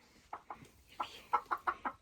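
Farm chickens cluck in short, sharp bursts, about eight clucks in quick irregular succession, close by and clear against a quiet outdoor background.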